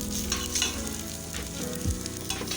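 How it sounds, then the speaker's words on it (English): Egusi (ground melon seeds) frying dry in a pan while being stirred, a continuous sizzle broken by scraping spoon strokes and scattered crackles, close up with no talking. "You fry the egusi to be dry."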